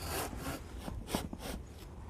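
A hand saw cuts through a bonsai tree branch, giving a series of about six rough, scratchy wooden strokes at a steady back-and-forth rhythm, close and fairly quiet, with no one talking.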